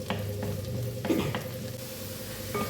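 Chopped ginger and garlic sizzling in butter in a pan, a steady close frying hiss with a few light stirring taps and scrapes, no voices.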